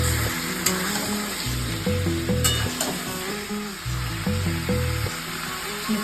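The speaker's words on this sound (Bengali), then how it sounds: "প্রথমে দেবো আদা, জিরে, লঙ্কা, ওই 3-4 দিয়ে আগে একটু কষিয়ে নেব" Ginger, cumin and chili sautéing in oil for a mutton curry in a pressure cooker: steady loud sizzling and frying with repeated stirring scrapes, close up and without talk.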